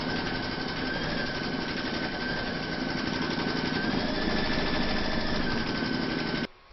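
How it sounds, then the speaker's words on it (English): Embroidery machine stitching a pineapple coaster outline through fabric and batting in a hoop, a steady dense mechanical chatter running continuously at close range and stopping abruptly at the end. "Pop your hoop back into your machine and stitch round number 2 to secure it"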